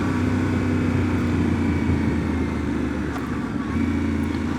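A 2025 Yamaha Tenere 700 adventure motorcycle with stock exhaust and airbox and a flashed ECU, ridden in sport mode on twisty roads, gives a steady droning engine note with constant wind rush, recorded close on the bike.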